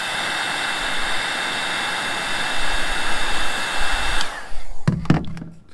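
Heat gun blasting a loud, steady rushing roar to soften hard, tar-like material on a Mercedes Sprinter roof rack job, running continuously before cutting off with a few clunks at the end.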